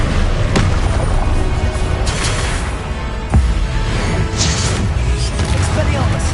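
Confringo blasting spell in a Hogwarts video game, several booming impacts and crashes among game noise, with a sharp hit midway and a voice talking over the action.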